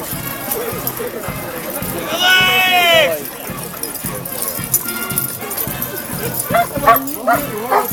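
Hunting dogs bark and yelp amid a noisy outdoor crowd at a dog show in Ukraine, with a loud sustained howl-like cry partway through and more barks near the end.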